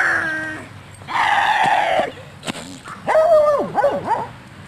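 Dogs bark and yip nearby in several loud bursts, some high and whining.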